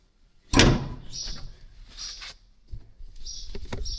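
A door on farm equipment at the start of corn planting swings shut with one sharp, close slam, followed by softer rattling, clicks and light shuffling movement.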